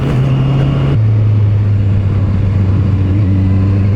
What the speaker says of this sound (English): This might be the best sounding stock exhaust I've heard so far.